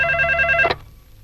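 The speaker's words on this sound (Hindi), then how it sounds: "रिंग हो रही है।" A telephone rings with a steady electronic trill, close and clear, then cuts off abruptly partway through, leaving quiet room tone.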